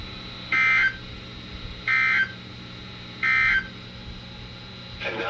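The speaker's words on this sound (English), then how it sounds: "This has been a test of the NOAA Weather Radio Public Warning Alarm System." NOAA Weather Radio emergency alert tones on station WXL50 during a required weekly test: three identical buzzing electronic bursts, evenly spaced about a second and a half apart, loud and clean over a faint background hiss.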